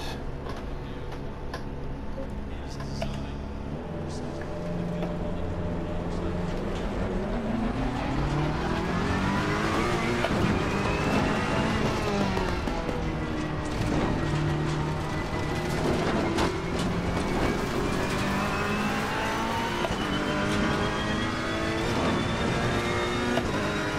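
A Ferrari 488 GT3 racing at Spa in the game Assetto Corsa Competizione, its engine note climbing through the gears in rising sweeps and dropping on shifts, loud and steady over a continuous rush with no talk.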